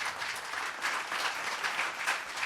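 An audience claps for a student speaker, Aradhana, after her speech: a dense, even round of applause from many hands, sustained without pause and heard alone with no talking.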